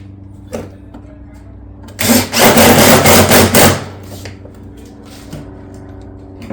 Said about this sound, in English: Make sure we don't over tighten these fasteners.